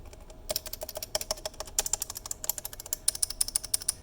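Clicks from 3D-printed key switches dampened with NinjaFlex, a quick run of sharp, close taps in an uneven typing rhythm with bursts and brief pauses.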